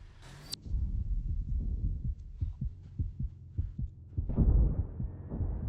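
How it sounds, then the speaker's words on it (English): Low, rhythmic heartbeat thumps from the video game Steel Aces pulse steadily and close-up over a rumbling game background, following a short burst of noise at the start and ending under a louder engine-like swell. "they've added like a heartbeat sound effect"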